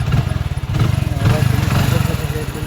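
A 2018 Hero Splendor Plus BS4 motorcycle engine idles close by with a steady, rapid low putter, running continuously throughout.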